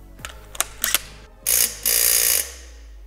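Ratchet wrench clicking as it tightens screws on a Lambretta scooter engine during a build, a few sharp close clicks followed by two longer bursts of rapid ratcheting.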